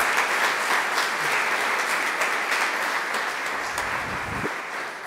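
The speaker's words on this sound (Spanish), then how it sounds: "A ellas démosles ese aplauso" A church congregation applauds during a Sunday Mass homily, a steady, dense wash of clapping that holds evenly for several seconds with no voices over it.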